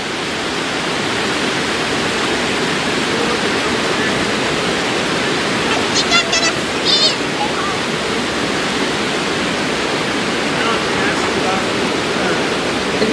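Water rushing steadily at Brushy Creek, a broad, continuous hiss of flow close to the microphone, with a few faint higher clicks partway through and no pause in the sound.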